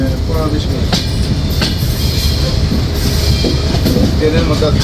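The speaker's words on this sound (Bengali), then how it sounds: "ট্রেনটি তার নির্ধারিত দুই মিনিটের যাত্রাবিরতি শেষ করে ছেড়ে দিল ঈশ্বরদী বাইপাস রেল স্টেশন" Padma Express intercity train pulling away from Ishwardi Bypass station on a curve, a loud continuous rolling rumble with rail clatter and brief high wheel squeals, close by.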